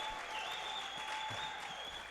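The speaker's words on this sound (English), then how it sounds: "some applause from the Apocalipsticks fans here in the stands" Scattered applause from Apocalipsticks fans in the stands at a 2017 ladies 8-ball pool championship match, a steady low wash of clapping with no one speaking over it.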